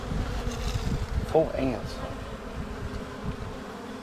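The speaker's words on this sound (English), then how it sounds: "In fact, the bees are starting to get pissy." Honey bees buzz steadily and close around a large infestation being removed, a continuous droning hum with someone speaking briefly over it.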